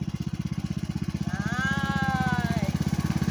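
A Craftsman lawn tractor's engine runs steadily close by, a low pulsing mechanical rumble with a brief rising whine partway through, with no voices over it.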